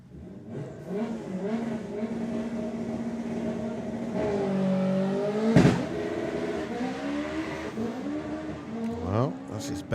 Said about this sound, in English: Let's see what he can do on a solo run.